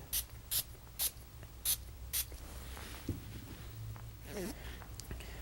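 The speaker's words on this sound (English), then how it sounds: "then give it a few sprays as well" A spray bottle gives five short, sharp hissing bursts of liquid onto a protective screen film, followed by softer handling and rustling sounds.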